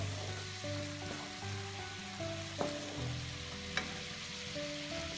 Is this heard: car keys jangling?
no